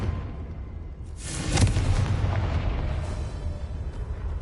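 A Confringo fire spell explodes in Hogwarts Legacy, a sudden loud burst about a third of the way in that rolls into a sustained rumbling roar and fades slowly.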